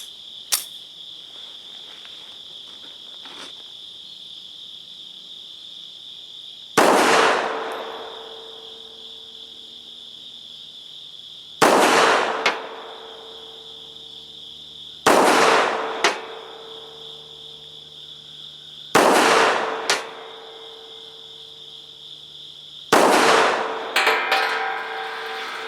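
A PSA Beretta M1934-C pistol fires about six sharp, loud shots at uneven intervals of several seconds, each with a short ringing decay, over a constant high insect-like chirp in the background.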